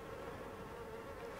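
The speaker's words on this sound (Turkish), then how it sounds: "Aşağıda sinekler mi?" Flies buzz in a continuous, steady drone in the video game Little Nightmares 2, a close, even hum with no talking and no pauses.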